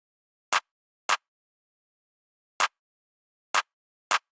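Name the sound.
Cymatics Magic Clap pattern in FL Studio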